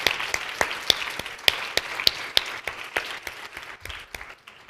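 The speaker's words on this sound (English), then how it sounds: "Round of applause" Conference audience applauding after a talk at a cybersecurity workforce event: a modest, scattered round of individual claps, sharp and close, thinning out and fading toward the end.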